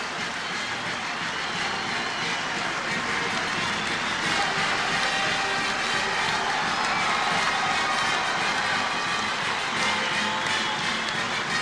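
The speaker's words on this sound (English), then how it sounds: "boy, is this crowd going crazy" Dense, steady roar of a large arena crowd cheering at an NCAA wrestling championship final in Iowa, loud and continuous throughout with no voices standing out.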